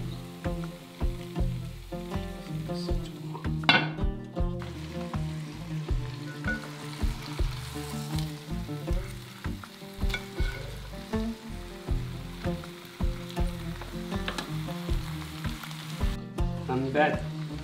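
Chicken pieces with onion and sugar fry and brown in a pan for a Moroccan tagine, a steady close sizzle with crackling pops and occasional stirring, no voices.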